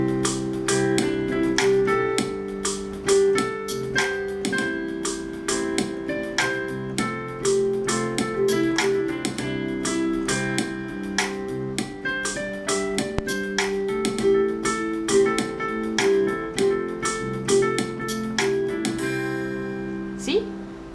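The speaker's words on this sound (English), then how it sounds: "I can play my pentatonic scale on top of it." Melodic pentatonic scale lines played over a repeating chord loop, a steady rhythmic pattern with plucked notes running on top throughout.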